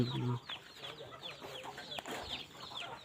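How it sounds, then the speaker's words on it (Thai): Chickens clucking on a small mixed-use farm, with short repeated clucks and chirps at moderate distance over a steady outdoor background. "โอ้ไก่ก็เยอะเลยนะครับ"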